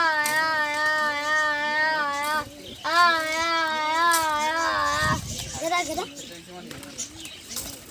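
Fancy pigeons coo in repeated soft, warbling phrases close by in a village loft, with children's voices and background chatter mixed in.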